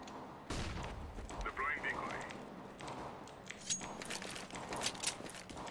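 Gunfire in Counter-Strike, with a burst of sharp shots and scattered further reports, fairly quiet and mixed with game noise while a player talks over it.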